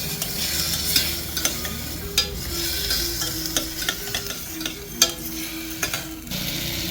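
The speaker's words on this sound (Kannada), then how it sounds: "ಇದೇ ಒಗ್ಗರಣೆಯಲ್ಲಿ ನಾವು ಒಂದು 2 ನಿಮಿಷ ಫ್ರೈ ಮಾಡ್ಕೋಬೇಕು ಹೆಸರು ಬೇಳೆನ" Moong dal stir-fried in a hot tempering for quinoa khichdi: a steady close sizzle runs throughout, broken by irregular sharp clinks and scrapes of a spoon against the pan.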